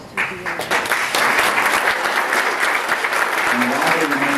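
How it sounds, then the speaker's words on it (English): Warm applause breaks out for former chamber of commerce chairmen standing in the room, a dense wash of clapping that starts abruptly and stays strong, with a voice briefly audible beneath it. "If we could give them a warm welcome and round of applause."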